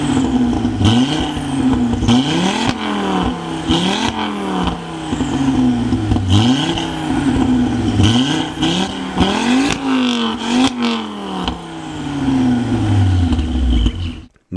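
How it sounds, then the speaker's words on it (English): Ford XR5 Turbo engine revved repeatedly, close and loud, with rising and falling pitch sweeps and mechanical clatter over about fourteen seconds, with no talking. "coming in at number 4 is the Ford XR5 Turbo."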